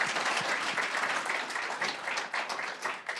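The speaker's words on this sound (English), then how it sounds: "a big round of applause" A crowd at a business awards ceremony applauds steadily, dense clapping that holds at an even level throughout.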